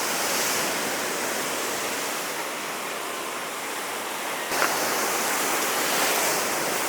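Seawater crashing against rocks beside a rock-side beach bar in Corfu, Greece, a loud continuous surf roar with a brief sharper splash midway, no voices.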